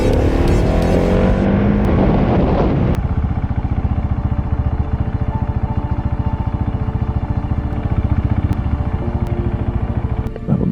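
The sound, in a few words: 2023 GasGas SM 700 single-cylinder motorcycle engine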